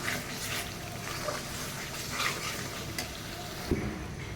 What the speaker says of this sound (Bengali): এই যে সব মশলা দিয়ে এখন আমি এটা ভালো করে ভেজে নিব মশলাটা